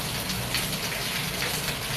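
Steady heavy rain pours down in front of a small house garden, a dense, even hiss of falling water with no voices.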